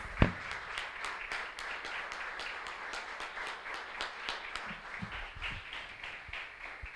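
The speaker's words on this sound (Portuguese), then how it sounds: "Mais palmas para Jesus, bem bonito para Jesus." Church congregation clapping together in a steady rhythmic beat, a dense sustained patter of many hands filling the room throughout with no talk.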